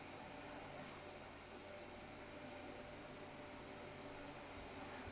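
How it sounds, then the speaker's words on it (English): A Hoover vacuum cleaner runs indoors, a steady faint motor whine and airflow hiss with a thin high tone, unbroken throughout and heard alone without speech. "I don't know how bad the Hoover noise is for you guys"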